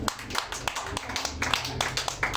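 Church congregation clapping in praise, sharp individual hand claps in a loose rhythm mixed with background voices and some low music.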